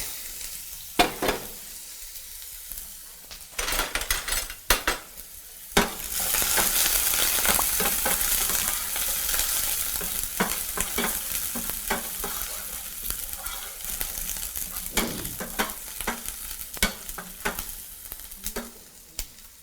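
Chopped onion and garlic fry in oil in a pan, with a loud sustained sizzle that swells after a few sharp clatters of stirring, then steady frying broken by intermittent utensil scrapes and knocks.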